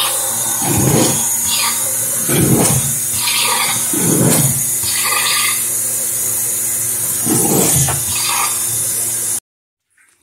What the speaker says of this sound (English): run kind of lukewarm water through the system here